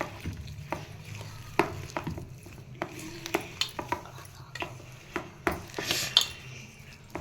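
Potatoes are squeezed and mixed by hand with salt and coriander powder, producing soft irregular squelching and light knocks against a bowl, close and quiet, with no talk.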